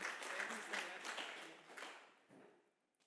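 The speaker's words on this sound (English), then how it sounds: "let's give Dr. Stolz-Urban a warm round of applause" A warm round of applause for a speaker at a South African conference on youth employability, dense clapping from a seated audience that swells, then thins and fades out over about three seconds.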